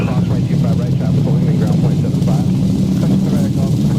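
Airliner engines spool to takeoff thrust in the X-Plane flight simulator on a Republic Airlines departure from Raleigh-Durham, a steady low roar with a voice faintly underneath.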